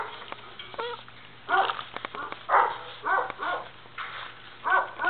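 Mixed breed puppies at an animal shelter give short yips, barks and whimpers in uneven bursts, close by and fairly faint, over a low steady hum.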